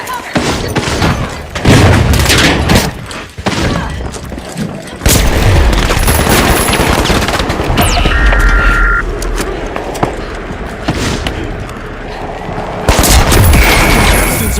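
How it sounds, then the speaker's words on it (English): A thermite weapon firing and a frag grenade going off in a low-gravity arena video game, a run of loud booming blasts and bursts with sizzling, whooshing effects layered over continuous game noise. "Firing thermite! Tossing frag!"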